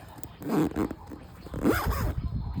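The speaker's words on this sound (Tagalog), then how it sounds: "So meron siyang zipper dito. So i-zipper nyo lang siya." Zipper on a Joolz Aer+ stroller being zipped closed, two quick close rasping pulls separated by a short pause, fairly quiet.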